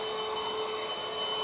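A vacuum cleaner runs with a steady, even whirring drone that does not change, filling the space at moderate loudness with no voices.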